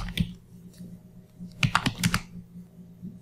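Computer keyboard typing a Windows command: a few scattered keystrokes early, then a quick cluster of crisp clicks in the middle, close and moderately loud over a low steady hum.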